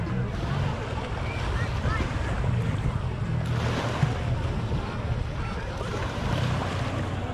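Steady rush of waves at Ponta Negra beach in Manaus, with wind buffeting the microphone under a continuous surf wash, alone and without talk.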